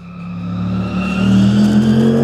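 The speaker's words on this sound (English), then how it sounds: "Wow, that was a big car." A race car on a motor racing track roars past at full throttle, its engine note loud and steadily rising as it nears and sweeps by the trackside position.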